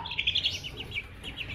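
Baby chicks chirp in quick, high, repeated peeps close by, a short burst of several tweets at moderate loudness with no talk over them.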